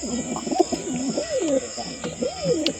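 A pair of pigeons coos up close in repeated soft, throaty phrases that rise and fall over a faint steady hum.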